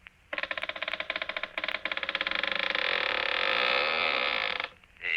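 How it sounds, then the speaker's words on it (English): A door creaking open as a 1952 radio drama sound effect, a long, loud, close groan with a rattling texture that builds steadily for about four seconds, then cuts off. "And now the door creaks open."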